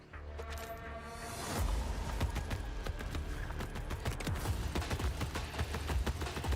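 Gunfire in the video game Borderlands 4: after a quieter start, a dense run of rapid, sharp shots and impacts keeps going to the end, with no talking.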